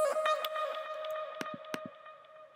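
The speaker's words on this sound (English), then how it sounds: "the same beginning part, just pitched up 12 semitones" Vocal chop pitched up 12 semitones with effects: a faint, thin, high voice holding a steady tone with light echo tails and a few sharp brighter blips, heard alone.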